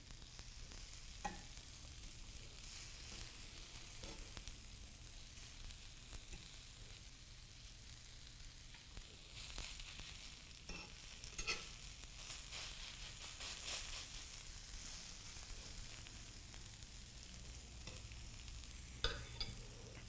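Zucchini fritters fry in a pan with a steady, close sizzle and crackle throughout, broken by occasional soft clicks and scrapes as more batter is spooned in.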